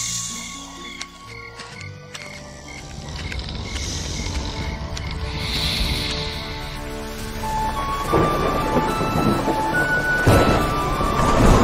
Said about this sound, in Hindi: जब वसुदेव ने सिर पर टोकरी लिए तूफानी नदी को पार किया